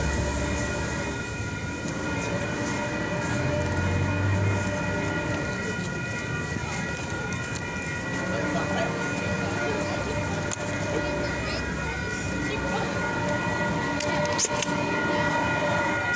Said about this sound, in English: So we got the choo-choo train going. That's the surf liner.